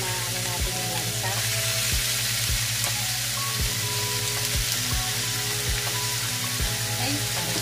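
Meat frying in oil in a pan, a loud dense sizzle that holds steady throughout, punctuated by several low knocks, close and without talking.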